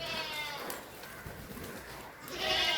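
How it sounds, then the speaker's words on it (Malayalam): Crossbred dairy goats kept for milk bleat on a farm, with loud wavering calls near the start and again at the end and quieter bleating between. "നല്ല അടിപൊളി ആടുകളാട്ടോ."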